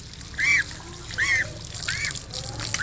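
Geese give three distinct honks spaced about a second apart, fairly close and moderately loud, over a low background murmur with faint trickling water.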